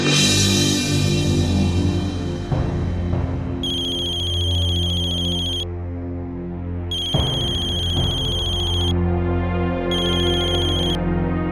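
A telephone ringtone repeats in three bursts of bright electronic tones with short gaps between them, heard over a steady low background hum during an unanswered call attempt. No one speaks.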